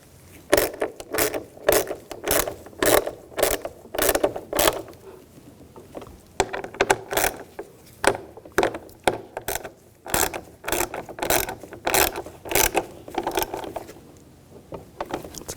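A ratcheting hand tool clicks in quick bursts while screws are snugged down on a window regulator module of a Ram 1500 pickup. The close, crisp rattles come in repeated short runs separated by brief pauses.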